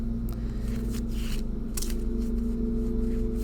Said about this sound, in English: So let me shuffle until Spirit asks me to stop.